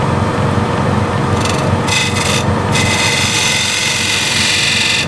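A 10mm spindle gouge cuts a wooden bowl spinning on a lathe, a steady close scraping and rubbing that runs through the whole stretch with no talk.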